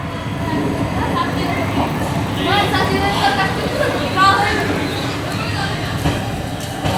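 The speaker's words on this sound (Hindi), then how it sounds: "1:25 से 13 मिनट पहले 1:12 पर हमारी मराठवाड़ा एक्सप्रेस पहुंच चुकी है डेस्टिनेशन मनमाड जंक्शन" Marathwada Express pulling into Manmad Junction, a loud rumbling train with rattling carriages and squealing metal over steady platform noise, with people chattering nearby throughout.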